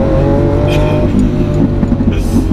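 Lamborghini Aventador S engine roaring loudly and steadily up close as the car shifts gears under acceleration, a dense continuous exhaust drone with small jumps in pitch.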